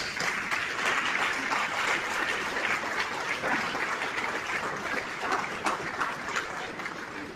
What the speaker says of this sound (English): Please stand and let us give them a round of applause.